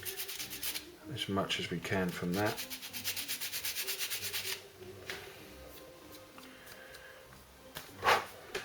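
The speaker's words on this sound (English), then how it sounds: "I can just grab my sanding block and let's just take away" A sanding block rubs back and forth across a Forge World Thunderbolt heavy fighter model part in steady, close scraping strokes, with someone talking briefly at the start and a few faint handling knocks afterward.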